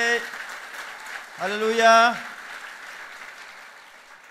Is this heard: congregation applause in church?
yes